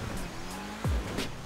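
In GTA 5, a four-wheel-drive car's tires give a short squeal over a steady engine drone, with a brief low skid-like swoop in the middle.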